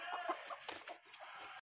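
A hen being placed on eggs clucks softly and continuously, close by but faint, for a short stretch before cutting off.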